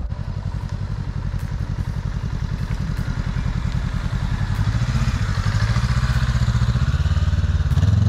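A motorcycle engine putters in rapid, even pulses at low revs during a slow U-turn with a passenger aboard, clutch feathered and throttle rising toward the end, close and loud with no talking.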